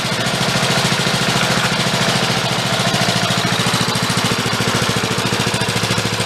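A small engine on an engine-powered wagon idles steadily and close, its low rhythmic chugging continuous and unchanging throughout with no talk over it.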